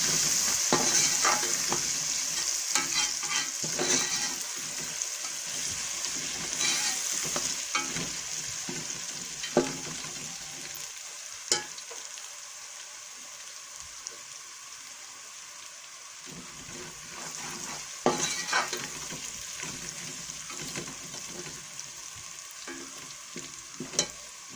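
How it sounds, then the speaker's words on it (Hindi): Ginger garlic paste fries with browned onions in a pan, a steady close sizzle with occasional scraping and clacking of a spoon as it is stirred, quieter in the middle stretch, with no voices. "अब इसमें हम अदरक लहसुन का पेस्ट शामिल करेंगे और इसको थोड़ी देर भून लेंगे"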